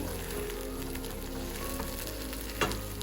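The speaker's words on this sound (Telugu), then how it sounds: "ఇప్పుడు మనం దీన్ని రెండు నుంచి మూడు నిమిషాల వరకు ఇలాగ నూనెలోనే మగ్గనిద్దాము లో ఫ్లేమ్లో" Raw tomato chutney fries gently in oil over a low flame, a soft steady sizzle with faint crackles and one brief louder clink of a utensil near the end.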